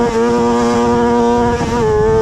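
A motorcycle does a burnout with the rear wheel spinning, the engine holding a loud, steady high-revving drone close by, with no talk over it.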